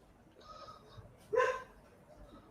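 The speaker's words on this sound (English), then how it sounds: "Dog barking." A single dog barks once, faint and distant, over low background murmur.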